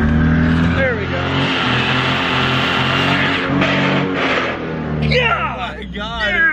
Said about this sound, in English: Oh boy, you just grinded gears so hard.